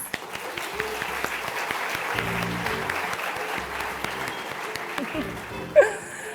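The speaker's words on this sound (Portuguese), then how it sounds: "Uma salva de palmas." An audience applauds steadily to welcome mediator Ana Inoue to the stage at a youth-and-work education event, the clapping sustained with a few voices mixed in before a sharp knock near the end.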